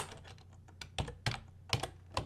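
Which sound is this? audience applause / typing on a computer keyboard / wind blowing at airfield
typing on a computer keyboard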